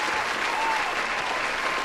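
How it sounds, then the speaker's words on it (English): A crowd applause sound effect on a gaming stream, steady dense clapping at moderate volume for its whole short length, with no voices over it. "I'll give you another round of applause because that was just amazing"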